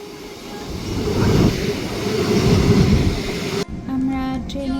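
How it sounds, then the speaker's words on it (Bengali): A train pulls into the station with a loud rumbling roar and metallic wheel noise that swells and holds, then gives way to a brighter tonal whine at the end. "ওই যে আমাদের ট্রেন অলমোস্ট চলে আসছে"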